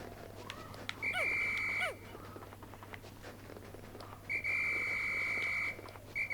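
The captain's whistle in Pikmin 3 Deluxe blown twice, each a bright sustained tone with a chirpy rising start, separated by a quiet stretch of soft footsteps and steady background hum.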